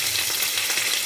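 Curry leaves tempering in hot oil for a mixed vegetable curry, splashed in wet so they splutter hard: a dense, steady crackling sizzle that carries on without a break from start to end.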